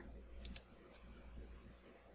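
A computer mouse gives a right-button click, two quick faint clicks close together near the start over a low steady background hum.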